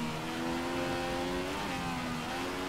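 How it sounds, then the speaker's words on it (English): A race car engine in a racing video game holds a steady, loud high-pitched drone that rises in pitch as it revs, continuous throughout with no voices. "Yeah, car feels better now."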